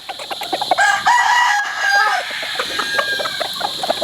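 A Shelton roundhead gamefowl rooster crows loudly and close by in one drawn-out call, with clucks and other fowl sounds around it on a game farm.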